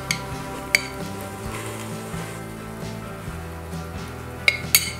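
Meat fries in a pan with tomato paste, a soft steady sizzle close by, marked by a few sharp clinks of a utensil against the pan and no speech.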